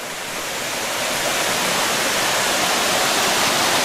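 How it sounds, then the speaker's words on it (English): Creek water at Sulfur Springs Waterfall runs over a sheet of ice in a snowy setting, giving a steady, close, full-bodied rush that swells slightly and continues without break and with no voices. "So underneath all this creek water is a sheet of ice."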